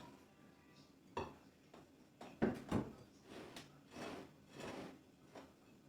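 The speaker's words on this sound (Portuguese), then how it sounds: "Vou acrescentando a farinha e sempre mexendo" Flour is stirred into dough in a pot. Quiet, uneven scrapes and dull knocks of the spoon repeat every second or so, with a couple of louder strokes in the middle.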